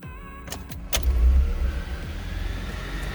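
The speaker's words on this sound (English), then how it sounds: "since I'm a hybrid, I can actually start the car without priming" A Ford Escape hybrid starts up just after an oil change: a few clicks and a sharp thump come first, then a low engine rumble swells and settles into a steady close idle.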